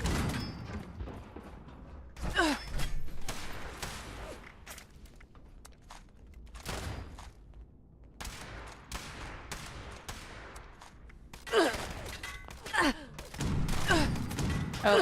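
Gunshots in the video game Fallout 76 crack in scattered bursts and single shots, some loud and close, others softer, mixed with footsteps and occasional creaks, with a player's voice talking in the clip.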